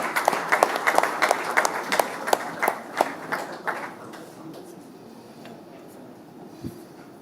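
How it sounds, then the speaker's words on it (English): Applause at the NDTV Indian of the Year awards ceremony as a guest is welcomed on stage, a scattered round of claps that starts strong with distinct sharp hits, then tapers off and fades to near quiet. "Can we have a round of applause as we welcome on stage Mr."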